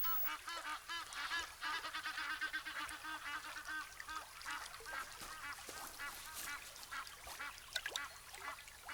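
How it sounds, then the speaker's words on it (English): A goose honks at a watering hole, with repeated nasal honks over a busy background of other birds and ambient noise, all fairly faint and distant. "This goose is fearless."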